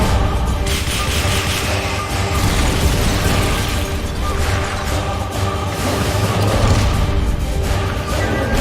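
A rocket launcher fires in Metal Gear Solid: Peace Walker amid dense, loud game noise, with bursts, pops and mechanical clatter running continuously throughout.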